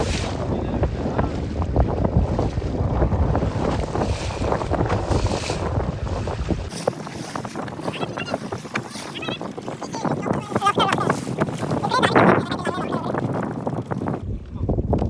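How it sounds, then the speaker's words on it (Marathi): Strong wind roars and buffets the microphone continuously on a fishing boat at sea, with water and boat noise underneath and people talking at times. "वारा भरपूर आहे."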